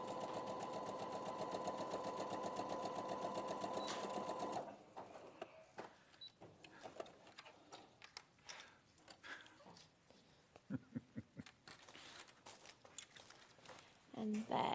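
Domestic sewing machine stitching a seam with a steady whirring run that stops partway, followed by quieter handling sounds and light clicks as the fabric is pivoted on the needle.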